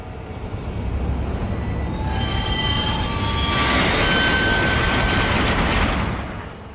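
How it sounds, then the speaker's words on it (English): A train rolls past in the video game Adam Wolfe, a steady loud rumble with metallic wheel squeal swelling in the middle and fading out at the end, with no talking over it. "The train of time is coming"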